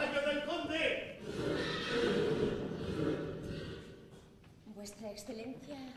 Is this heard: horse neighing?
yes